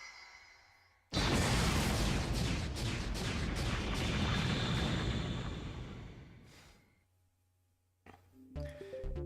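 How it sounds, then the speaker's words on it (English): A boss explodes in the video game Mega Man ZX Advent: a sudden loud roaring burst that holds for several seconds, then fades away before a few short electronic tones. "No, you're exploding."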